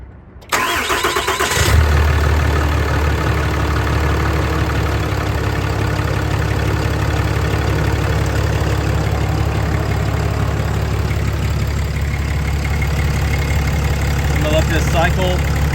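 A 2017 Ram truck engine cranks and catches, then settles into a steady, loud, low idle that runs unbroken to the end after heater hose work.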